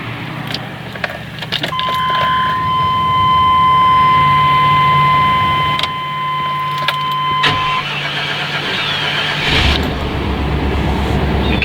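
A 1995 GMC C2500 extended-cab long-bed pickup with a throttle body V8, started after sitting a couple of days: keys jingle, a chime rings, the starter cranks, and then the engine catches into a steady, close idle.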